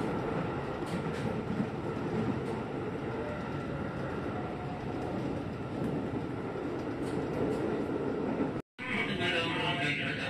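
Inside a moving KRL commuter train in Jakarta, bound for Bojong Indah station on a fresh morning: a steady, broad rumble of the carriage fills the whole stretch, with a short break near the end before the noise resumes brighter.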